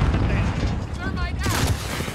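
A stun grenade is thrown and goes off in a shooter video game, heard as a heavy booming blast with rumbling low end, mixed with game effects.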